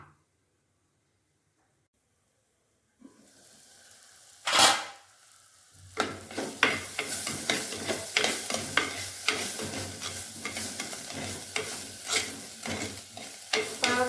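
Bitter gourd sizzles in oil in a home-kitchen pan while a utensil stirs and scrapes it repeatedly. A dense, steady frying hiss follows a brief clatter after a quiet opening.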